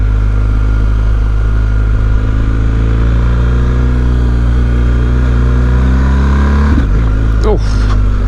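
BMW R 1250 GS motorcycle ridden on a street, its engine droning loud and close at a steady pitch, then briefly revving and rising in pitch near the end; the rider's described fault is jerky running.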